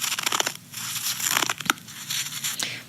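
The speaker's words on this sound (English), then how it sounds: "here's the sound of actually creating a snowball" Snow being packed into a snowball by hand, a dense crunchy squeaking and crushing texture with a few sharper squeezes, close and fairly quiet, no voices.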